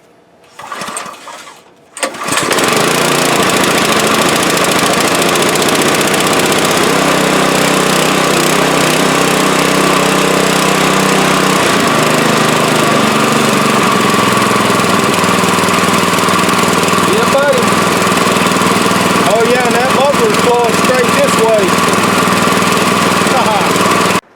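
After a brief pause the small engine of a mower-mounted leaf and grass vacuum starts and runs loudly and steadily, a constant buzzing drone with a faint rattle that holds for the rest of the clip.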